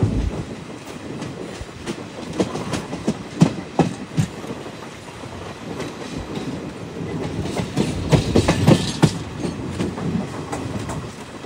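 Inside a moving passenger train bound for Chennai Egmore, a steady rumbling roar carries rhythmic clickety-clack wheel thumps over rail joints, with clusters of sharper knocks growing busier toward the end.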